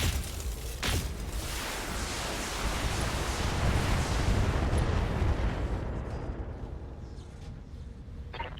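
Weapon fire and explosions aimed at the Screecher in a video game make a dense, loud rumbling blast with an early sharp crack, a sustained roar that slowly tapers off, and no voices.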